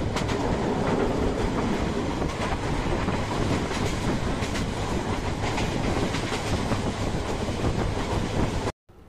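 A passenger train running on rails, heard from on board as a loud, continuous rumble with rhythmic clickety-clack from the wheels, steady throughout until it cuts off at the very end.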